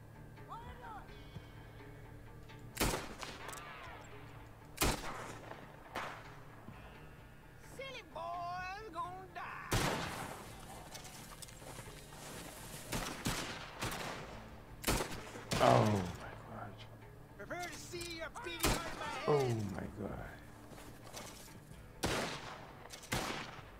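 Gunfire in the online multiplayer game Red Dead Redemption Online, with sharp shots cracking out at irregular intervals, some singly and some in quick clusters, against a low background while someone speaks Portuguese.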